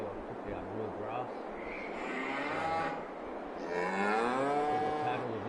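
Cattle in the livestock area of Farming Simulator 22 give two long, drawn-out moos, one after another at moderate distance over a constant ambient hum, with someone talking faintly in between.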